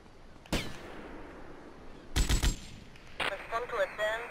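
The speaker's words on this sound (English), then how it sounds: "What the fuck, he's shooting through a wall?" Gunfire fired through a wall in the game Grand Theft Auto Vice City: a sharp single shot, then a tight rapid burst of several loud cracks, followed by another shot with a voice talking over it.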